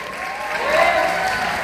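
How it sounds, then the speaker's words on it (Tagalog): A crowd at a debut celebration in Quezon City bursts into loud applause and cheering, a continuous dense wash of clapping with shouts rising near the middle, with a voice faintly mixed in. "Isang malakas na palakpakan at hiyawan!"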